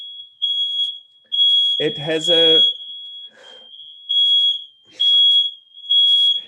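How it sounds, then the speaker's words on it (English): A smoke alarm in a room emits a steady high-pitched electronic beeping that repeats in short bursts, interrupted briefly while someone talks over it. "Oh, wow, we have an alarm going off here."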